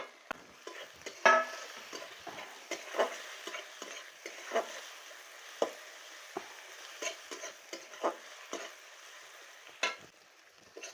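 Fried beans stirred into sizzling spiced oil, with a soft continuous frying crackle broken by repeated scraping and clinking strokes of the spoon against the pan.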